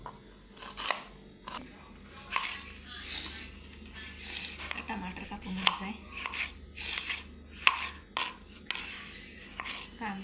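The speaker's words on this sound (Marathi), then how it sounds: "कांदा कापून घ्यायचा आहे" A knife chopping onion for a mixed eleven-vegetable bhaji, a string of crisp cutting crunches at an uneven pace, close and fairly quiet, with soft speech in the background.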